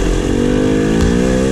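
A KTM 300 XC two-stroke dirt bike engine droning loud and close while being ridden, a steady buzzing roar with a slight rise in pitch.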